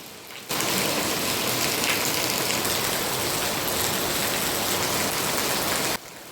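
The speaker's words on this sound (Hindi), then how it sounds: "बारिश का मौसम, हवा में ठंडक और हर तरफ बूंदों की आवाज़।" Rain pours down in a village, a dense, even hiss of drops on surfaces that starts abruptly, holds steady and loud for several seconds, then cuts back to quiet.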